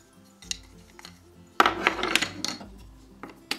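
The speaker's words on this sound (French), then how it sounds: "maintenant on mélange bien et on va bien sûr rajouter d'autres ingrédients" Toy salad ingredients being tossed in a play-kitchen bowl: scattered clacks and knocks of plastic and wood pieces, including a louder burst of clattering in the middle, close up with no talking.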